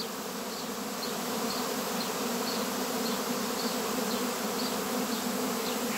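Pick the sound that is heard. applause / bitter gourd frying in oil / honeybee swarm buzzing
honeybee swarm buzzing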